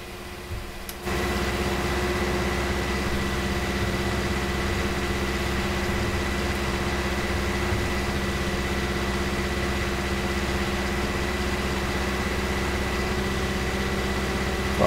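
A tractor engine idles steadily in Farming Simulator 19, a loud, constant low drone with a steady hum that kicks in after a brief quieter moment and holds unchanged to the end.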